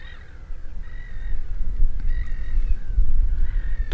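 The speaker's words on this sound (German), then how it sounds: "So, da sind die ganzen Vögel vereint und wartet aufs Wasser scheinbar." Crows caw among a gathered flock of birds at the IJsselmeer, a few scattered calls over low, rumbling wind noise outdoors.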